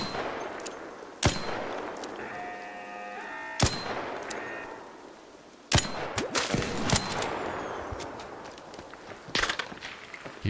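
ARC Raiders gunfire: several loud, isolated sharp shots ring out with metallic clangs and pings, followed by a denser burst of rapid fire and scattered impacts toward the end, with footsteps in between.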